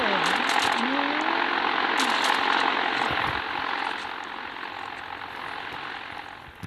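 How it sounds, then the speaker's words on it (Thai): Propeller aircraft summoned in the Roblox naval combat game Naval Warfare, a loud, continuous engine drone with a rising and falling whine in the first few seconds, then a steady roar that eases off slightly toward the end. "เอาเดี๋ยวซัมมอนเครื่องบินมา"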